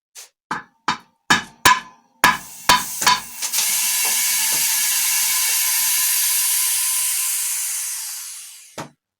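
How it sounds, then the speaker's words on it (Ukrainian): Several sharp hammer taps ring out in quick succession on a Samsung television picture tube, then a sudden rushing hiss of air fills the space for about five seconds as the vacuum releases, before stopping. "Зараз будемо спускати вакуум з кінескопа"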